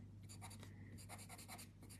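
A white pencil scratches across a paper craft tile in short, rhythmic strokes, quiet and close, with faint electrical hum underneath.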